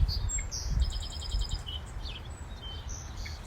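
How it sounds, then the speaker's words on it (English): Red-winged blackbirds call along the LA River, with a rapid series of repeated high chirps and scattered shorter calls over a low background rumble, fairly faint and distant. "there are so many red-winged blackbirds"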